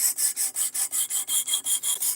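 Rhythmic rasping strokes of a knife blade drawn across a stone on a sharpening system, about ten evenly paced passes in two seconds, bright and close with no talking.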